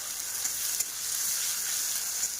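Spices lightly frying in a home pan give a steady, close sizzle with a faint crackle running unbroken throughout, and no voices over it.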